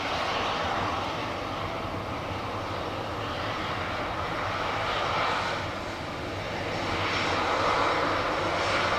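Airliner jet engines roar steadily at Lisbon Airport, a loud continuous drone that swells and eases slightly over several seconds, heard without talk.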